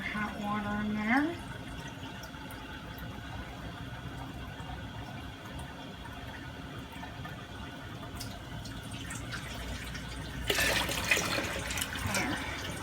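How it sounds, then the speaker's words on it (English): Hot water runs steadily from a tap into a canning pan for several seconds, a continuous rushing fill with a brief louder splash near the end, moderately close. "Put some more hot water in there."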